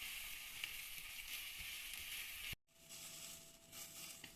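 Egg white frying in a pan gives a steady hiss and crackle. It cuts off sharply partway through, then returns as a quieter sizzle with a faint tone.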